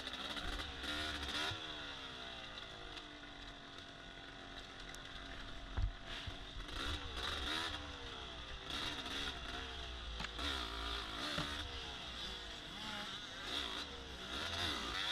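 A dirt bike races an off-road GP course at Fox Valley in 2020, heard up close from the rider's position with its engine loud and continuous. Throttle rises and falls in repeated revving surges as the rider passes a Honda climbing a hill.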